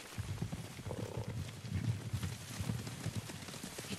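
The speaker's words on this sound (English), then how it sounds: "Horses, they're coming for us." Horses galloping toward the player in Ghost of Tsushima: a continuous rumble of hoofbeats with loud, busy clip-clop rhythm, close and sustained.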